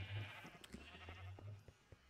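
Sheep bleat in Minecraft, a few short, faint calls spread over a couple of seconds against a low steady background hum, with no talking.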